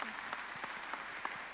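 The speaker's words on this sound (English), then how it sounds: "Round of applause." An audience at an Australia Day luncheon award segment claps steadily throughout, a dense continuous wash of applause heard at moderate distance.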